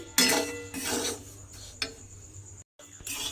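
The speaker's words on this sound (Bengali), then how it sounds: "এইভাবে আস্তে আস্তে সুজিটাকে ভেজে নেব" Semolina being slowly stirred and dry-roasted in a pan, quiet rasping scrapes of the spoon in uneven strokes, with a short silent gap.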